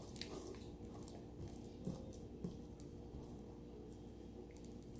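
Slime drips and squishes in soft, wet squelches, quiet and close, with a few sharper sticky pops scattered through the stretch.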